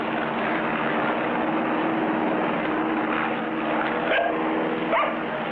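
A propeller airplane drones at a steady, loud pitch in a 1959 cartoon, one continuous engine tone with a couple of brief higher blips toward the end.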